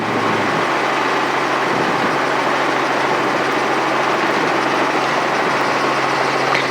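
A helicopter engine and rotor run loud and steady after landing as the throttle is rolled back during an autorotation training flight, making a dense, continuous roar with no pauses and no talking.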